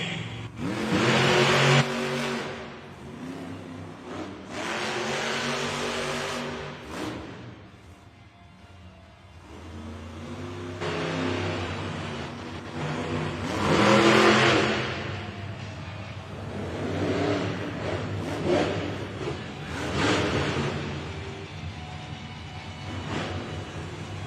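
A monster truck engine roars and revs through a timed racing run at a Monster Jam event in an indoor arena, loud and sustained with repeated surges and throttle swells over crowd ambience.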